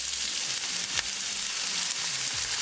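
Onion hits hot vegetable oil with cumin seed for a meatball curry, giving a steady, fairly loud broadband sizzle with faint stirring scrapes throughout.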